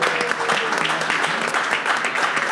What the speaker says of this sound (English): let's give a round of applause for Spiral Brewery here.